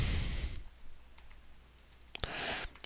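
A computer mouse clicks on a login button, giving a few short, crisp, close clicks scattered across a quiet stretch with a faint background hiss.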